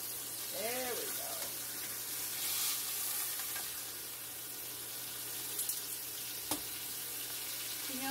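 Country ribs sizzle and brown in a pan on a stove with a steady, close frying hiss, a brief burst of tap water early on and a single sharp clack near the end.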